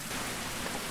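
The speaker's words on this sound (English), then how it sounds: "it's still raining. It's raining in our cave" Steady rainfall in a survival video game at night inside a cave, a dense even hiss of rain with no break and no talking over it.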